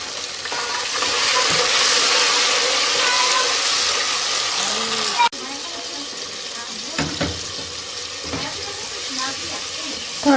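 Onions, garlic-ginger paste and tomatoes fry in a pan for sarson ka saag, a loud continuous sizzle that drops sharply when the tomatoes go in, followed by quieter sizzling with stirring clinks.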